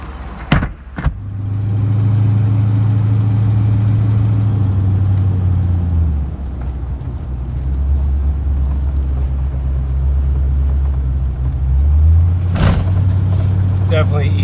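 Close, loud engine of a 1973 GMC motorhome running on a test drive, a droning rumble that dips in pitch around the middle and then climbs again, with a couple of sharp knocks and thumps and a voice talking in places.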